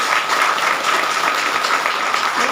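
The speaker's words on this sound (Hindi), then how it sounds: "जोरदार ताली हो जाए आप लोग।" Sustained audience applause at a branch gathering in Mandar, a dense steady clapping from a crowd that holds at an even level throughout without pause.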